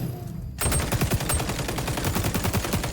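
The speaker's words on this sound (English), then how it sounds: "just the little bit of tap fire" ACR rifle tap-fired in XDefiant: after a brief quiet lead-in, a rapid, steady string of sharp close shots rattles on without pause.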